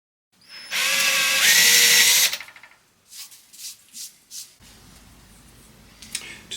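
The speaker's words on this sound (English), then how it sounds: "So I just need to drill a hole in there and then drill a hole in that" A power drill whines loudly for about two seconds as it bores into a 1950s oak chair, then stops, followed by quieter handling and scraping noises.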